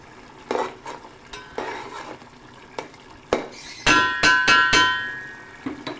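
Fresh curry leaves dropped into a hot pot of shrimp pulao sizzle in short crackling bursts, followed by a quick run of bright metallic clinks from a utensil against the pot. No one speaks.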